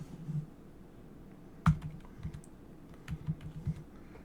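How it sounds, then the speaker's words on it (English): Scattered keystrokes on a computer keyboard sound close and soft, with one sharper click near the middle followed by a few lighter taps. "we'll type in GameCube"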